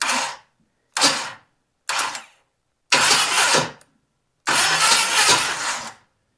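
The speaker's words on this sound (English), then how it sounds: "the starter's turning" A 1976 Camaro's starter cranks over an engine with damaged flywheel teeth in five harsh, grinding attempts, the first three short and the last two longer, each cutting off into silence.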